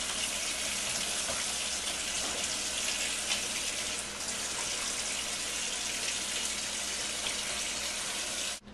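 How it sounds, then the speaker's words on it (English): Tap water runs steadily into a sink as hands are washed, a close, even hiss of flowing water with slight splashy variation that stops abruptly at the very end, no voices. "first we have to wash our hands"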